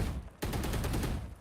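Rapid video game gunfire in a 2v2 esports match, a sharp burst of shots in quick succession after a brief pause, loud and close with no talk.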